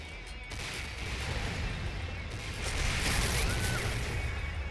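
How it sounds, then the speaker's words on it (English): Personal ion cannon fired in the C&C Renegade video game, a loud sustained crackling energy blast with whooshing roar that swells and builds near the end. "Basically, it's a big cannon."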